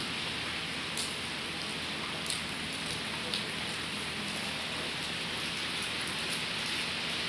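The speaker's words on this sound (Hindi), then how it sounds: "बारिश आ रही है" Steady rain pours down outside a balcony at a police line residence, a dense, even hiss with occasional louder drop ticks, continuous and fairly close, with no talking.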